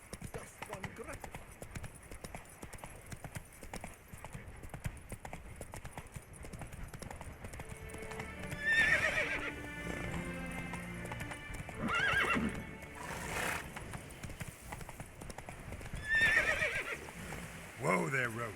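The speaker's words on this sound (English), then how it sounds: "Whoa there, Roach" A horse in The Witcher 3 game trotting with steady clip-clop hoofbeats and several whinnies, clear and mid-distance under a voice talking.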